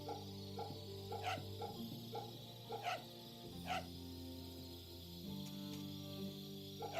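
A dog barks in the video game Fate/Samurai Remnant, with several short yips and barks spaced a second or so apart over a steady, droning musical background.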